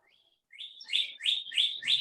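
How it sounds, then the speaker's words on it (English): Birds chirp outdoors in a short series of four bright, rising whistled calls, clear and fairly close, preceded by a fainter note. "Oh, listen to those birds. They're so pretty."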